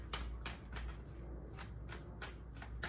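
A deck of tarot cards is shuffled by hand, giving soft, quick riffling bursts in a steady rhythm, quiet and close with no talking.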